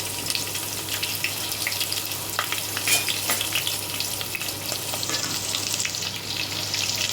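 Sliced onion and green chillies fry in a hot pan while coconut rice is being cooked, giving a close, steady, continuous sizzle with a few faint scraping touches throughout.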